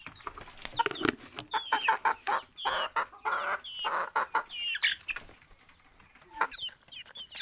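Several native free-range chickens in a rural yard cluck and cackle busily close by, overlapping in an uneven, continuous chatter with a few louder squawks.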